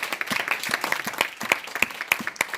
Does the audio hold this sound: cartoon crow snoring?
no